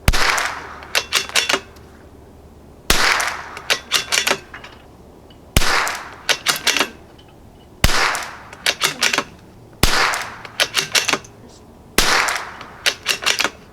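Savage B22 precision rifle firing Federal ammunition outdoors: six loud, sharp shots about two seconds apart, each followed by a quick burst of mechanical clicks and rattles.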